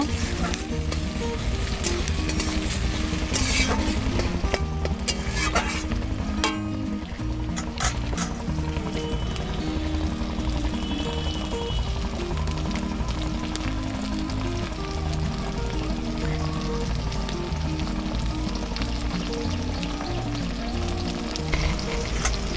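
Tomato and slit green chillies fry in a pan for chicken kosha, giving a steady, loud, continuous sizzle close by with occasional stirring scrapes and no talking.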